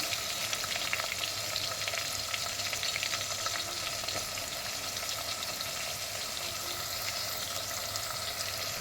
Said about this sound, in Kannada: ಸಣ್ಣಗೆ ಹೆಚ್ಚಿಟ್ಕೊಂಡಿರೋಂಥ ಈರುಳ್ಳಿ, ಒಂದು 2 ರಿಂದ 3 ಈರುಳ್ಳಿ ಹಾಕ್ತಾಯಿದ್ದೀನಿ.